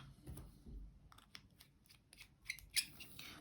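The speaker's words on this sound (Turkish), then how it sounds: "Şöyle kalemimizi de Tekrardan kapatalım" A white Kaweco Klasik Sport fountain pen has its cap pushed back on, producing small, faint clicks and plastic taps that end in a crisp snap near the close.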